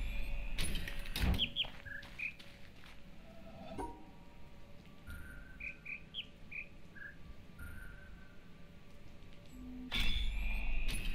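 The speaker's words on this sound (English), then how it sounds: "You just have to listen and track the pitch of the sound that the bird is trilling every time." Short bird trills at different pitches in a puzzle area of the video game The Witness, sounding in small groups of two to four over quiet ambient insect-like background, with a few soft thumps.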